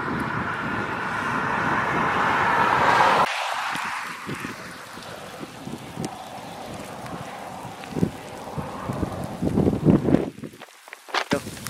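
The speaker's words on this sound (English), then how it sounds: "Baby hail." Small hailstones fall during a New Mexico storm with a tornado and wall clouds: a dense, steady patter. Louder wind or engine noise fills the first few seconds, then scattered close knocks and rattles follow.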